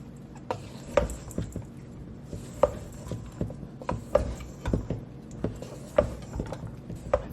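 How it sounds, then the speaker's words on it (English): Crockpot stuffing stirred to work in seasonings such as granulated garlic, a steady run of soft scraping and tapping with regular spoon knocks against the pot, close up, with no voices. "And give it a mix to get all of those seasonings incorporated."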